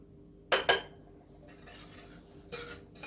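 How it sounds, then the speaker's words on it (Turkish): A spoon clinks against a bowl while stirring yeast, sugar and salt to dissolve them, a few sharp close taps in quick pairs with quiet scraping between. "Mayamızı eritelim hep beraber."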